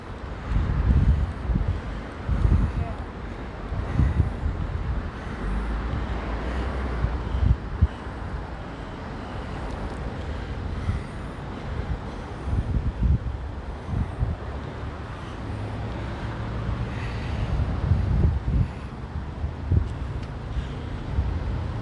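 Steady wind gusting across a riverbed brush fire in Oildale, Bakersfield, California, a constant rushing roar buffeting the microphone for the whole stretch, with low rumbles from nearby fire vehicles underneath.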